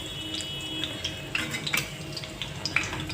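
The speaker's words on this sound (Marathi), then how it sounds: "हे बघा मध्यम गॅसवर तळून घ्यायचं आहे." Soaked chickpea cutlets fry in a pan over medium heat, giving a steady crackling sizzle with scattered sharp pops and a few light clinks throughout.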